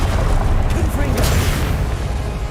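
A Confringo spell explosion booms in Hogwarts Legacy, a loud fiery blast with crackling bursts over a dense low rumble, while a voice casts the spell.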